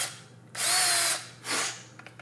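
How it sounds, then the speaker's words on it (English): Power drill boring into a wooden upright piano hammer butt, two close, loud whirring bursts, the first longer, followed by faint clicks. "Careful not to drill too far into the butt."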